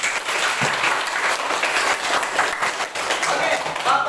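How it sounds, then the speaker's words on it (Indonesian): A class audience gives a round of applause at the close of a lesson, many hands clapping in a dense, sustained burst, fairly loud, with a few voices mixed in. "marilah kita memberikan semangat untuk diri kita dengan tepuk tangan"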